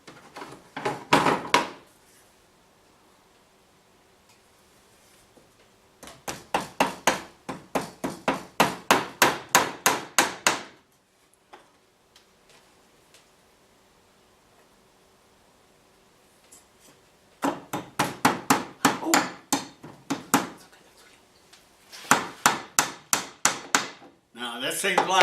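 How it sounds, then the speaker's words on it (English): A hammer drives a short nail, about an inch long, into the inside of a wooden beehive frame. Close, sharp taps come in quick runs of several strikes, separated by quiet pauses. "you got to run a nail right here a little short nail, about an inch on the inside of the frame."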